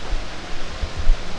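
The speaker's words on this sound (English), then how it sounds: "Look at that waterfall." Waterfall in Oregon, a loud, steady rushing roar of falling water heard up close with low rumbling surges.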